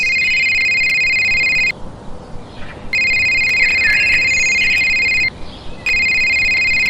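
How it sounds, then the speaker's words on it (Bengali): A phone ringing in the morning in a cartoon ghost story, an electronic ringtone sounding in repeated bursts with short pauses between, loud and close, no talk over it. "সকালে ঘুম ভাঙল ফোনের আওয়াজে"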